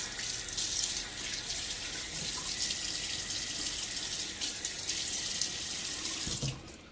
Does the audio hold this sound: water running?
yes